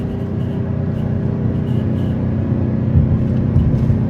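A gas Chevrolet 2500HD with the L8T engine drones steadily while climbing and towing a 12,000 lb fifth-wheel trailer, a dense low-pitched hum that stays even and loud from start to finish, with no voices.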